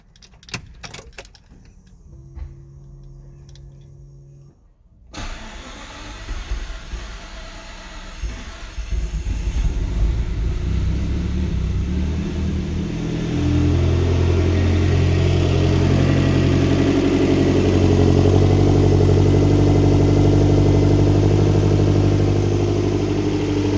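A Lotus Esprit V8 engine cranks and catches after a quiet start, then settles into a loud, steady rumbling idle that swells as the revs climb and stay high, close and alone with no talk.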